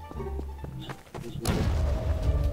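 Gunfire in the video game Garry's Mod: a few muffled thumps, then a burst of dense shots, fairly faint and mixed with game noise.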